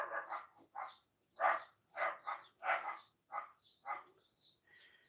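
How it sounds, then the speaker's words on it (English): Several dogs bark in repeated bursts at a house with the door left open during a cooking session, fairly close and moderately loud, with no talking over them. "apologies about the dogs. I have to leave the door open for the cats."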